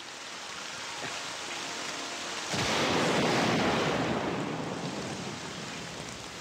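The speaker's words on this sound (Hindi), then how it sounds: "बिजली जोरों से कड़क रही है।" Heavy rain pours steadily while thunder cracks about halfway through, swelling into a loud rolling rumble that slowly fades back under the downpour of a storm.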